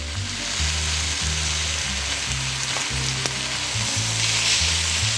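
Chicken pieces fry in a pan with a steady, close sizzle that runs unbroken throughout, with a low rhythmic bumping beneath it and no talk.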